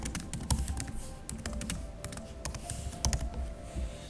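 Rapid typing on a computer keyboard, an irregular run of close, crisp key clicks with occasional heavier strokes, heard alone without talk.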